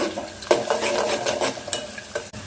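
Onions, mustard seeds, cumin, chana dal and dried red chilies stirred in a hot pan, rhythmic scraping of a spoon against the metal under a soft sizzle, close and fairly loud, no speech.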